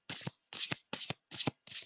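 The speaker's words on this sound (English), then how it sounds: "so just shuffling these ones here" A deck of oracle cards riffled by hand up close, five quick crisp bursts of ruffling card noise separated by brief silences, alone with no voices.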